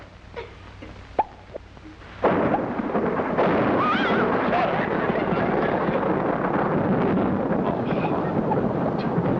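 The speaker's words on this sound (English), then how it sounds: "It's just a thunderstorm." A low, sustained rumble of thunder swells in and rolls on with a windy roar, preceded by a few faint knocks.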